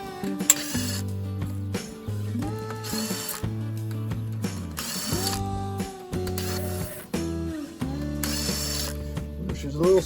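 A socket ratchet backs 10 mm bolts out of a 5.7L Hemi cylinder head, its pawl clicking in quick, repeated bursts between short pauses, close and loud.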